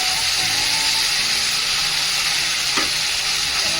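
Tomato and cabbage chutney sizzles and fries in hot oil in a pan, a loud continuous crackle with a brief scrape of stirring near the end.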